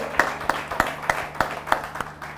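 Sparse, rhythmic claps from an audience at a Hindi poetry recital, honoring poet Megh Shyam Megh, sounding thin and fairly distant, with a few scattered hand strikes repeating every half second or so.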